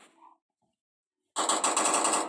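Rapid automatic gunfire from a gun mod in the video game Minecraft, a dense loud burst of repeated shots that starts abruptly after a short silence and continues steadily to the end.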